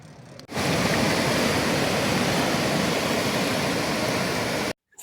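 Sea waves wash onto the shore at Cox's Bazar beach in Bangladesh in the afternoon, a loud, steady broadband roar of surf that runs unbroken for several seconds before cutting off abruptly.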